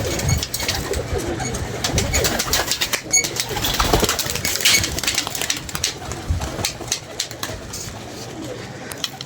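Pigeons cooing close by in a repeated soft rhythm, with occasional wing flaps, faint background noise and a little distant talk.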